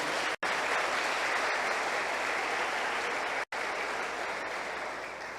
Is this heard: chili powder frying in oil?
no